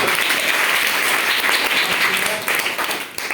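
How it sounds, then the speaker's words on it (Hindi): Loud, close applause from children in a school classroom, a dense burst of rapid hand claps that rings on evenly before tapering slightly at the end. "बहुत बढ़िया, ताली बजाइए"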